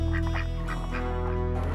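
Ducks quack in a short, busy chorus on a duck farm in Soria, Spain, several birds calling close together over a constant low hum.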